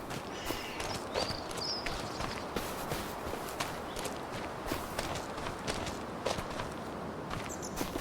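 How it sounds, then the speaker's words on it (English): A horse walking in the video game Farming Simulator 25, its hooves giving a steady run of soft, fairly faint clip-clop footfalls over a constant background bed. "Never mind, it's just the Romani horse."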